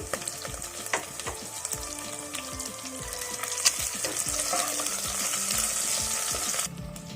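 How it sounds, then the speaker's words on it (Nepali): Eggs frying in oil as chili powder and turmeric are stirred in, a steady close sizzle with rhythmic scraping taps of the spoon against the pan throughout, no voices. "अब म यसमा यो कलर खोर्सानी पाउडर सानो चम्मचको आधा चम्मच अनि आधा चम्मच चाहिँ यो हर्दी पाउडरलाई एड गरेर चलाउँदैछु"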